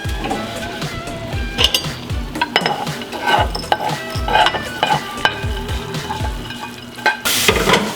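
Chopped pecans toast in olive oil in a pan, giving a steady close sizzle broken by repeated stirring scrapes and light utensil clinks throughout, with no talking.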